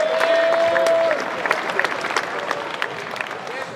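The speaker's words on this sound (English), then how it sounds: "Give yourselves a round of applause." Fans at a boxing event applaud, a dense crowd clapping in a large arena with a faint whistle-like tone at the start, the applause easing slightly but staying continuous.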